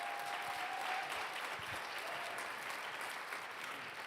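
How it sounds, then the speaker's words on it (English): A church congregation applauds at a Sunday contemporary service, steady dense clapping filling the room for the full length without pause. "So please give him a round of applause."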